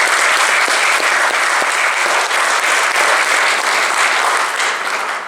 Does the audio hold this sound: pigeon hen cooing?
no